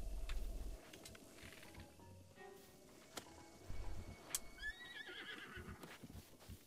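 A horse in the video game Breath of the Wild gives a clear neigh and whinny with a falling, wavering pitch near the end, after some hoof clatter and low rumbling game sounds.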